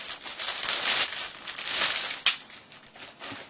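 A plastic bag rustles and crinkles while a brass collectible figure is unwrapped from its packaging, with continuous soft crackling and one sharper crinkle partway through, close up.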